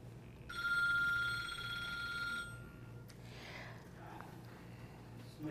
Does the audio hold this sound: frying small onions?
no